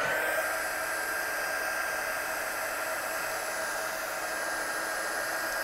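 A heat gun blows steadily and fairly quietly over stamped watercolour artwork, an unbroken airy whoosh with a faint high whine and no pauses or voices.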